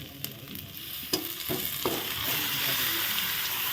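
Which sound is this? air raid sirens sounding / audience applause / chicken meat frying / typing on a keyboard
chicken meat frying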